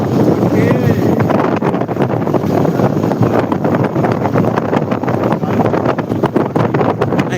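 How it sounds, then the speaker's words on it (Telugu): Strong wind buffets close by in a constant roaring rush with gusty fluctuations, some voices faintly audible beneath. "గాలి"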